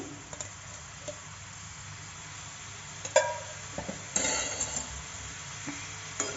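Spices such as pepper and cumin stirring in about two spoons of oil in a pan, with a continuous low sizzle and a few sharp scrapes and taps of the spoon, close and fairly quiet.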